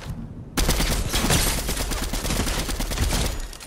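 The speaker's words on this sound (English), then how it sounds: "From both sides, we're getting shot from both sides." Heavy gunfire in Fortnite that erupts suddenly after a short quiet and continues as dense, loud, continuous bursts from several weapons.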